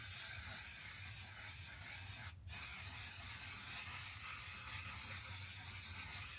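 A steady, close hiss of makeup setting spray being sprayed onto the face runs almost without pause, broken once by a brief gap.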